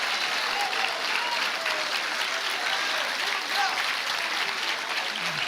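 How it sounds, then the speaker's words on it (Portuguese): A church congregation applauds steadily and evenly for several seconds, a dense wash of many hands clapping with a faint voice or two under it. "Se é para aplaudir, se é para Jesus, faça melhor"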